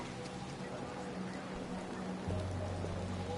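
Steady rain in Detroit: Become Human, a dense, even hiss filling the whole stretch, with a low hum swelling in near the end.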